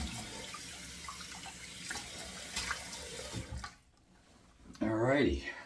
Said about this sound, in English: let's go ahead and get cold water going here so we can do a cold water rinse